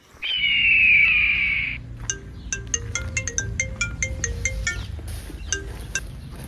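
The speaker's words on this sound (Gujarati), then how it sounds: "બોલતા ને બોસ નો ફોન આવ્યો." A mobile phone ringtone sounds loudly for under two seconds as a bright electronic tone, followed by a quieter scatter of tinkling chime-like notes in a calm indoor setting.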